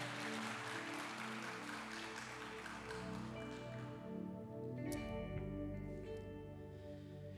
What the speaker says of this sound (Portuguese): Então aplauda Jesus mais uma vez